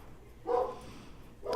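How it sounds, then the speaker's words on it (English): A single dog bark from somewhere in the background of a house, moderately loud, followed by the start of another bark at the very end over quiet room noise. "Sorry if you hear the barking."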